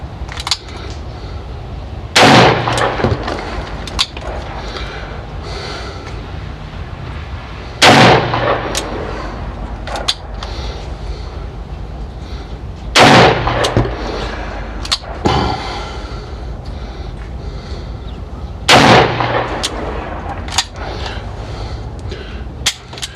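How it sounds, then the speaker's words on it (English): Five loud single-action shots from a .357 EAA Windicator revolver fired at a rifle target outdoors, evenly spaced about five to six seconds apart, each a sharp crack with a brief ringing tail over steady background noise. "We shot through the center just to see where it's pointing."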